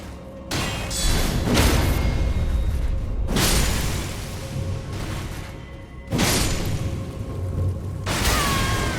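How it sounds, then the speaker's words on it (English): Rumbling, booming blasts burst out in Elden Ring, three broad surges of roaring, crackling energy, each several seconds long, loud and close, with no talking. "That's that explosion I was kind of wondering was going to happen."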